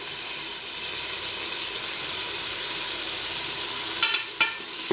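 Peas being stirred into a hot frying pan, with a continuous close sizzle and hiss, then a few sharper scraping clicks of the spoon near the end.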